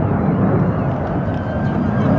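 Airplanes rehearsing for an air show pass over a Blackpool seaside promenade during a heatwave, a steady, loud, broad engine roar filling the whole stretch without a break.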